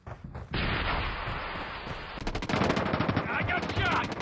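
Video game gunfire crackles in rapid machine-gun bursts, starting abruptly after a short pause and growing denser and louder toward the end, with battle noise and faint voices mixed in.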